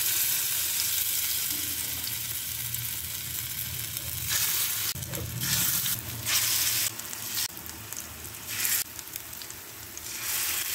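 Pumpkin fritters (bora) dropped one by one into hot oil in a home kitchen, a continuous close sizzle that swells into louder bursts of crackling as each fritter goes in; no voices.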